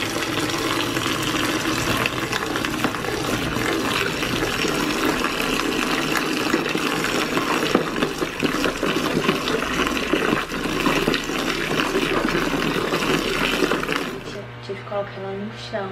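A washing machine fills with a loud, steady rush of running water that continues without a break, then cuts off near the end, leaving a low hum and faint clicks.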